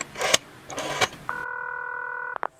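A telephone being dialed and ringing: a few clicks and knocks, then a steady electronic ring tone held for about a second and cut off by a couple of short clicks, close and alone.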